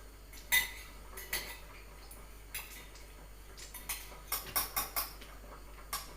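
Spoon clinking and scraping against a container while stirring soap base with added vitamin, a series of light metallic taps and clicks in an irregular rhythm, close and fairly quiet.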